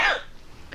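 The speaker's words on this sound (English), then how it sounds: "I have a cough." A single short, harsh cough from someone with a cold, close to the microphone, followed by quiet.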